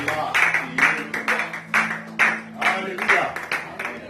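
A congregation at a church prayer service breaks into rhythmic clapping, a dense, loud burst of hands beating together in a steady pulse with voices mixed in.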